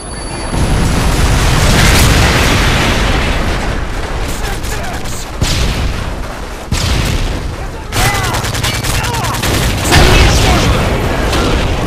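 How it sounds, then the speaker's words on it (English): Predator missile strikes and heavy explosions in Modern Warfare 3 multiplayer, a dense, loud barrage of booms and gunfire that rolls on continuously with brief dips, under faint game voice announcements. "Friendly Predator missile inbound."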